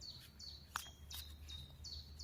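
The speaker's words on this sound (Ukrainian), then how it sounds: "Знаєте, тут співає пташечка." A small bird sings outdoors in woodland, repeating short high chirping phrases at a steady rhythm, fairly faint against a low background rumble, with one brief click partway through.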